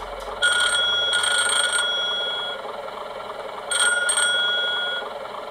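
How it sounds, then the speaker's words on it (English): Two bursts of electric bell ringing from a Dapol GWR streamlined railcar model's sound system, a steady metallic trill lasting over a second each, separated by a short pause, fairly loud and alone. "communication bells"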